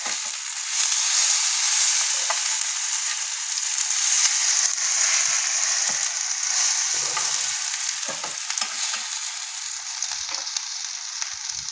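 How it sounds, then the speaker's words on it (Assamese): Lentil fritters (bora) frying in oil in a pan, a continuous bright sizzle with occasional soft clicks and stirring, close and fairly quiet, no voices. "এয়া দেখিছে বৰখিনি ভজা হৈ গ'ল।"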